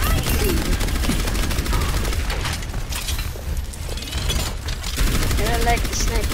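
Rapid gunfire in the video game Overwatch, dense continuous rattling bursts mixed with mechanical clatter, loud and near throughout with brief lulls, game effects layered in.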